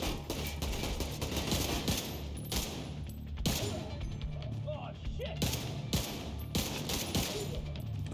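Rifle fire in The Division 2 on Xbox, dense bursts of loud gunshots cracking in rapid succession across the whole stretch, with brief pauses between volleys and faint voice chatter underneath.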